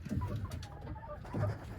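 Young chickens settling in an 8x8 coop, soft low clucks and murmuring calls in two short bursts, close and fairly quiet.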